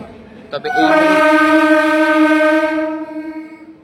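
A local train pulling into platform 1 at Panskura station blasts a loud, sustained horn lasting about two seconds, tailing off as the low rumble continues.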